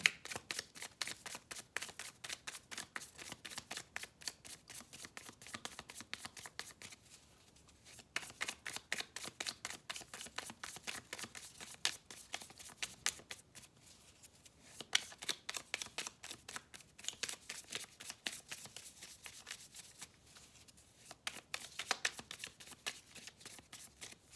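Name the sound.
tarot cards being shuffled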